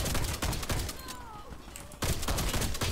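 An SRM1216 shotgun in the shooter game Warface fires a rapid string of loud, punchy blasts, breaks off for a quieter moment with faint background effects, then resumes a dense volley of shots.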